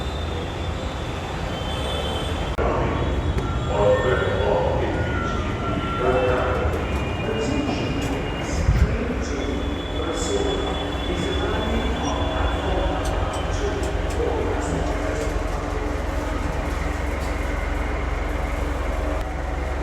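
A Mumbai Metro train ride from Ghatkopar, with steady rumbling wheels and carriage noise, squeals and a brief horn-like tone, while passengers talk in the background throughout.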